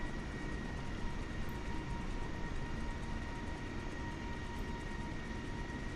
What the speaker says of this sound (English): we got a Cessna 172 coming on in here.